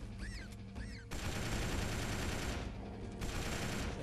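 An enemy in Jurassic: The Hunted opens fire in a dense automatic burst. It starts with a few scattered shots and then becomes loud, continuous fire that breaks off briefly and resumes, with faint birdlike chirps behind it.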